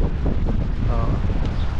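Wind blows across the microphone at Mission Bay in Auckland on a cool, sunny day, a constant low rumbling buffet with faint voices underneath.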